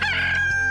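A cartoon rooster crows in one brief, loud, strained call that holds a steady high pitch, with no speech over it.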